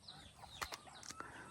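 Farm chickens cluck in a few short, faint calls at feeding time, low against a soft outdoor background.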